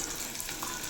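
Edible gum (dink) frying in hot oil, a brief, even bubbling sizzle that holds steady throughout at moderate volume.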